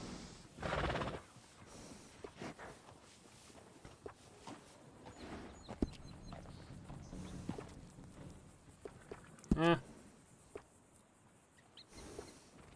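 Horses at a stable in the Red Dead Redemption 2 video game give a loud whinny early on and another later, amid soft hoof clip-clops and shuffling steps in a quiet scene without speech.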